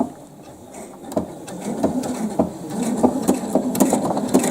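A sewing machine runs a short burst of satin stitches, about seven or eight, fastening a piece onto a woven waterfall panel, with a steady mechanical whir and quick repeated needle taps close by.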